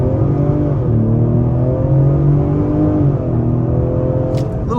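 A 2023 Ford Explorer ST engine accelerates in a steady, close, loud climb with a brief dip and renewed rise as it pulls on the gas, heard alone without talk.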